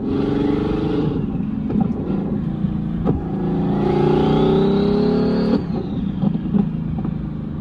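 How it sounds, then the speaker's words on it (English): A Ferrari 550's engine revs hard with a rising whine of turbo spool climbing in pitch, then a sharp release, the engine loud and close throughout. "just the sound of the turbo spool"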